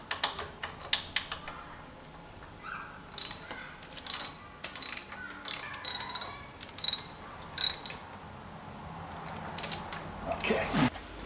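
A ratchet clicks in short repeated bursts while the fork clamp bolts of a Kawasaki Ninja 1000 motorcycle are snugged down, close and crisp with quiet pauses between the bursts and no talk.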